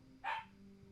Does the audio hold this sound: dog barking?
yes